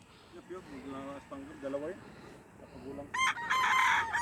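A spangle gamefowl rooster crows loudly and close near the end, following someone speaking over faint background clucking.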